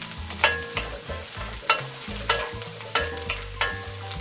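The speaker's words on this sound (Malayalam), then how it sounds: "ഈ പാൻ സ്റ്റൗവിൽ വെച്ച് അല്പം എണ്ണ ഒഴിച്ചിട്ട് 2 ടേബിൾ സ്പൂൺ വെളുത്തുള്ളി നന്നായി ചെറുതായി അരിഞ്ഞത് ഇതിലേക്ക് ഇളക്കി കൊടുക്കാം." Finely chopped garlic sizzles in a little oil in a pan on the stove while a spoon stirs it in repeated scraping strokes, close and fairly quiet, with no one talking.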